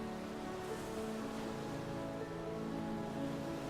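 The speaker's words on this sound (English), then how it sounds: "The waves are washing in, gently washing over the beach, and then flowing back out again." Ocean waves wash steadily onto a beach at dusk, a soft, continuous surf hiss with a faint tonal hum beneath, low in level and with no voices.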